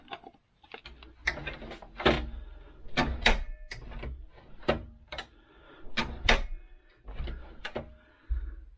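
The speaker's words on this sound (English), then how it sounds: "I'm going to stick this back together again, and I'll put it in the door" A repaired door handle with a lock being fitted back into a door, producing a series of sharp clicks, knocks and rattles in an uneven rhythm, close and fairly loud.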